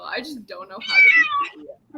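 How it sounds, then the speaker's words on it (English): House cat meowing indoors, several short, close meows with a longer drawn-out cry in the middle, mixed in with a person talking. "That was my cat."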